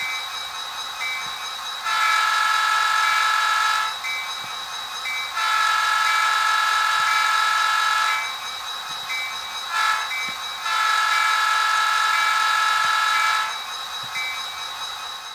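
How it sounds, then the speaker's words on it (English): Grade crossing horn sequence from a sound decoder in a Bachmann SD45 model locomotive: three long, loud horn blasts with a quick short toot between the last two, over a steady low running hum. "I'll go ahead and play a grade crossing sequence for y'all"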